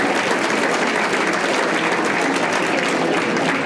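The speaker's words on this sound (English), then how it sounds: "give yourselves a big hand. Let me hear it" A comedy club audience breaks into steady, dense applause, a loud continuous wash of clapping that fills the room with no pauses and no speech over it.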